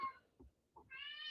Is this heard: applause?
no